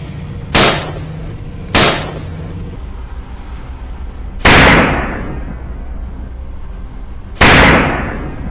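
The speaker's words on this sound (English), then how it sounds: "decisive gunshot rings out the moment the wild boar emerges" Loud gunshots ring out at wild boars on a farm: four sharp, booming cracks spaced a second or more apart, each trailing into a short echoing decay.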